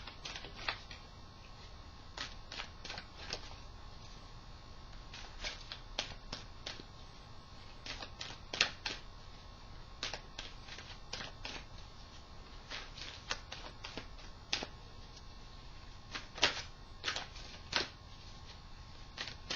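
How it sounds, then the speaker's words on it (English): Soft, repeated riffling and slapping of tarot cards being shuffled, irregular bursts over a quiet hum, with no talking. "Pardon my silence while I shuffle."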